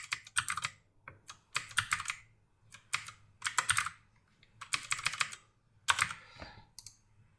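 Bursts of clicky keystrokes on a computer keyboard, typed in quick uneven runs with short pauses between, close and clear.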